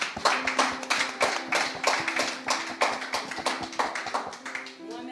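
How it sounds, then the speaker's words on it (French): An audience applauds speakers at a discussion event, with steady, dense hand clapping that carries on evenly for several seconds, moderately loud and close, with no talking over it. "je voudrais que vous les applaudissiez à nouveau"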